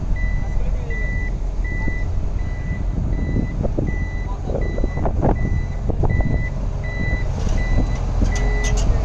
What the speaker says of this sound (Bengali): মানে শব্দ আছে না গাড়ির?